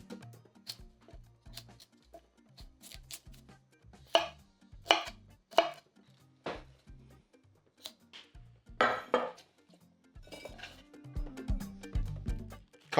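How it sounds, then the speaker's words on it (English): Knife chopping broccoli on a cutting board, a series of close, crisp irregular chops with short pauses, ending in a burst of rustling and clattering pieces. "A quick knife work. Start with the broccoli."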